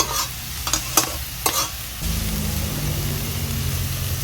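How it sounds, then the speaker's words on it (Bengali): Spice paste for a puti fish curry stirred in a hot pan: a few sharp scraping strokes come first, then a steady, close frying sizzle carries on alone. "মশলাটাকে কিছুক্ষণ নেড়ে চেড়ে নিয়েছি"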